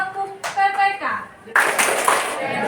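A class of students claps the PPK clap routine, bursts of hand claps mixed with children's chanting voices, getting louder and denser partway through.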